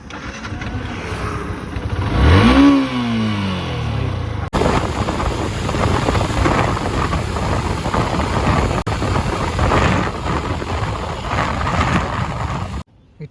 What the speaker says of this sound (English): So let us start the bike and move on.